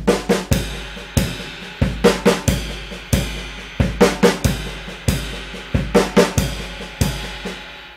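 A drum kit plays a busy, syncopated jazz lick of punchy kick and snare hits with cymbal wash, loud and close, in quick uneven bursts.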